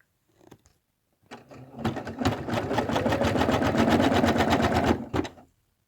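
An embroidery machine stitches an in-the-hoop zipper bag applique, a rapid rhythmic needle clatter lasting several seconds after a few short starting taps, close and clear.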